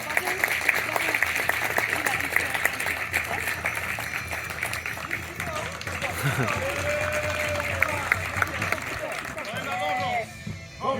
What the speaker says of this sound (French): On peut l'acclamer, brave gens.